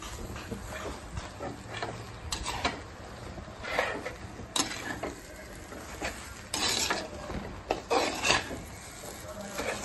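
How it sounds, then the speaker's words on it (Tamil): Egg idli pieces being stirred in a pan with a spoon, quiet scraping and rasping strokes in irregular bursts, close and fairly soft. "இப்போ நம்ம கிளறி விடுவோம்"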